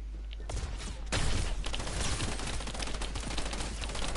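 Rapid gunfire from a shooter game in a loot-based mode, dense volleys of shots crackling loud and continuous through the whole stretch, with a brief lull near the start before the firing resumes.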